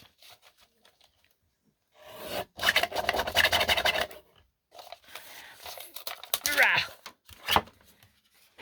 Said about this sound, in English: I'm just going to cut on the lines that I drew.